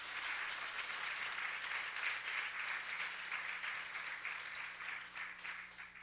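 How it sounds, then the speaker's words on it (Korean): Audience applause during a Korean church service, a dense, even wash of clapping from many people that carries on steadily throughout without any voices over it. "우리는 박수로 다시 한번 축복하도록 하겠습니다."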